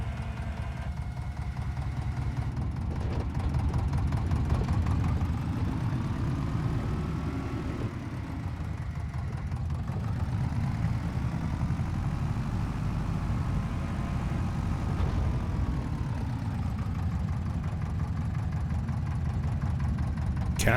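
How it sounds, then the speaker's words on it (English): A Zettelmeyer machine's small single-cylinder engine idles steadily and fairly close, a continuous low chugging drone with a slight knock, running alone without talk for about twenty seconds. "Come on, little one-piston engine."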